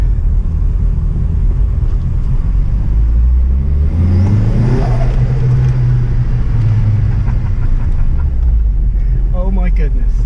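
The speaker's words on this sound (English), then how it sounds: "It chattered anyway, like a doodle-doodle, but now we're getting a much bigger chatter, so compressor surge" Nissan Silvia S15 Spec R turbo engine accelerating with no blow-off valve, a loud rising rumble and whir, then rapid fluttering compressor-surge chatter as the throttle lifts. Voices talk over the engine noise.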